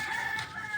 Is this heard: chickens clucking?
yes